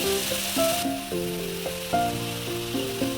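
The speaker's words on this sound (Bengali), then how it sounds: "শাকের সঙ্গে একটু পেঁয়াজ আর চিংড়ি দিয়ে ভাজা হচ্ছে" Greens, including Malabar spinach leaves, frying in a pan with onion and shrimp, giving a steady close sizzle throughout with some tonal sounds over it.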